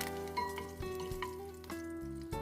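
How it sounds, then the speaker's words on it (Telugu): Green chillies and curry leaves frying in hot oil in a pan, a steady soft sizzle with faint clinks and background tones, no talking. "కరివేపాకులు డ్రై అయ్యే వరకు ఫ్రై చేసుకోవాలి"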